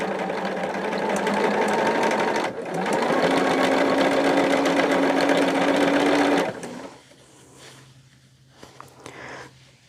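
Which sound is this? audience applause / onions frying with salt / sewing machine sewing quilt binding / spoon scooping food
sewing machine sewing quilt binding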